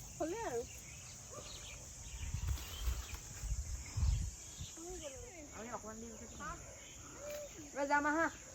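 Birds calling outdoors, several short warbling and chirping phrases rising and falling at moderate distance, with a steady insect-like hiss in the background and low rumbling handling noises in between.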